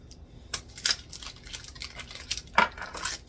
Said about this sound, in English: While that's melting, I'm gonna cut up my cheese.